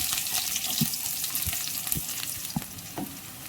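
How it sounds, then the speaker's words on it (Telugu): Mustard seeds and chopped onions fry in hot oil for a home-style curry, giving a steady broadband sizzle with faint crackles and a few soft stirring knocks, close and continuous with no talking. "ఆయిల్ వేడయ్యాక ఇందులో కొద్దిగా ఆవాలు, కట్ చేసి పెట్టుకున్న ఆనియన్స్ వేసుకున్నాం."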